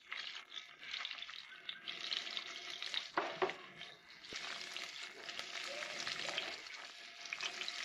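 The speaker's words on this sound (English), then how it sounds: "add the remaining onion here so that it remains, and we will also fry it like this" Onion fries in warmed oil in a pan, a soft, continuous crackling sizzle with a brief clatter of stirring midway, fairly quiet and without speech.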